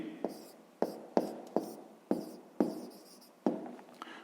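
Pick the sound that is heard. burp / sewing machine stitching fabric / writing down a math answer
writing down a math answer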